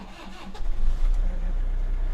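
A Toyota Hilux Vigo Champ diesel pickup engine cranks briefly, then catches and settles into a steady, low idle rumble close by.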